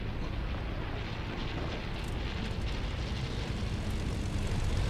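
A plane in the video game Fortnite drones loudly and continuously, a broad roaring engine wash that holds steady throughout with no talking over it.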